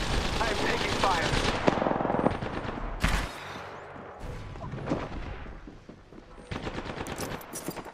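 Video game gunfire: rapid automatic bursts and single cracks, loud at first, then sporadic shots with quieter gaps before another burst near the end, with voices talking underneath.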